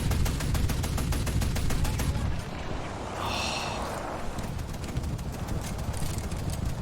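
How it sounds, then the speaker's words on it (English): A gun in a video game fires rapidly over a loud, continuous battle din, with evenly paced shots through the first half. Then comes a brief higher-pitched mechanical burst before the dense background rumble returns. "I like the cadence of this gun."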